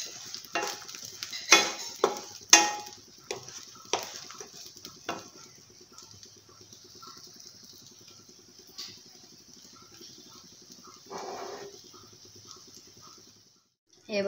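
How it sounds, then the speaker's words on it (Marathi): Jaggery melting in a pan for sesame ladoo, stirred with a spoon: a soft steady sizzle under scraping and clinking against the pan, busier at first, then calmer, with occasional faint spoon knocks. "हे बघा, आपला गूळ वितळत चाललेला आहे. त्याला सतत असं परतत राहायचं आहे."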